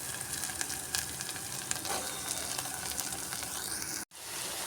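Bottle gourd pieces fry in a pan with a loud, even hiss and crackle throughout, sprinkled with small spits, before a brief cut near the end.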